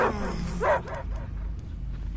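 A dog gives a few short barks and whimpering yips from inside an enclosed space. The sounds are moderately close and sit over a steady low background hum, with no talk.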